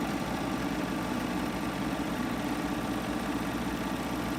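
Serger sewing machine running steadily, a dense, even mechanical whir and rattle held without pause, close and constant with no talk.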